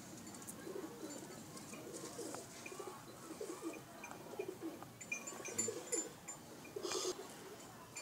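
Teddy female and Ferozpuri male pigeons coo softly and repeatedly in a loft, with scattered chirps and rustling nearby and no talk.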